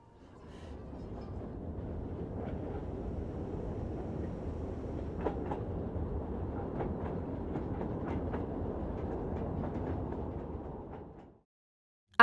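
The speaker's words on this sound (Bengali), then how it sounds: "এই ট্রেনটি মিডলাইন বরাবর চলবে।" Passenger train travelling on the line out of Kashgar, a steady continuous rumble of wheels on rails with faint clicks, heard from inside the carriage throughout.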